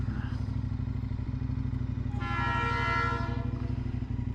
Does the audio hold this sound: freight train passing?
yes